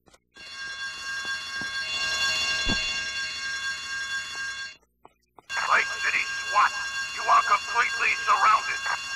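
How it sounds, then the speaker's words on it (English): A bank alarm blares in the Grand Theft Auto: Vice City video game: a loud, steady electronic ringing drones for several seconds, breaks off briefly, then resumes beneath bursts of voices and commotion. "I told you not to touch that alarm!"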